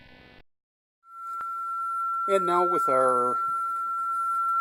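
A steady 1354 Hz sine test tone from a signal generator, fed to a reconditioned Teac A4010S reel-to-reel recorder, holds constant and alone for several seconds while someone speaks over it.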